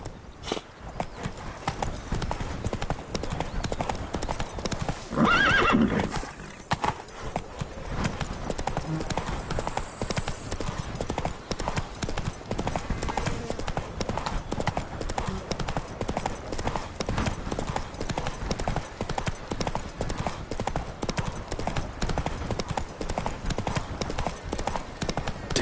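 Horse hooves clip-clop in a steady, continuous rhythm while riding in The Witcher 3: Blood and Wine, close and prominent for the whole stretch, with a brief louder burst near the start.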